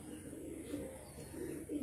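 Pigeons of the Andhra breed held for sale give low, throaty cooing calls in short repeated bursts, close and fairly quiet, with no one talking.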